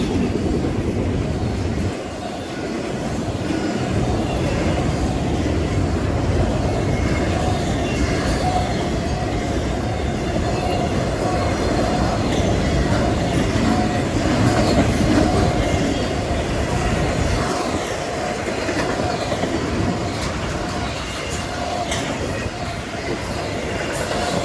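Freight train rolling past trackside with domestic cars at the rear, a loud continuous rumble with rhythmic clickety-clack of wheels over rail joints and occasional squeals, sustained throughout at close range.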